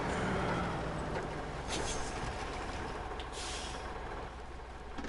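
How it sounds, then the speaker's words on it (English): A Caterpillar truck in the SnowRunner video game rumbles with a steady heavy engine drone and a hissing air-brake release, loud and continuous, no talk. "That's my Caterpillar truck."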